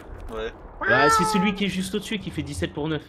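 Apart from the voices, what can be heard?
cat meowing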